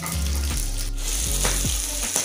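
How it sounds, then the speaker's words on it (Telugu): Goat brain dropped into hot oil in a pan sizzles and crackles loudly and continuously, with bubbling pops and a few brief scraping stirs, close up and with no talking. "కొద్దిగా ఆయిల్ వేడి అయినాక ఈ బ్రెయిన్ ఇందులో వేసేసుకున్నాం"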